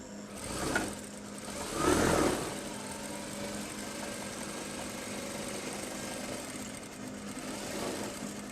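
A sewing machine stitches fabric with a steady, fairly quiet motor hum running throughout, a slight swell near the start and soft handling noise.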